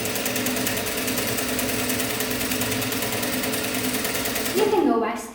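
A sewing machine runs steadily while stitching fabric for a square-neck top with puffy sleeves, its motor hum and needle rattle continuous and close, stopping near the end with a brief rustle.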